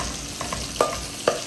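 Onion fries in butter in a pan for butter chicken, giving a soft, steady sizzle broken by a few quick stirring scrapes.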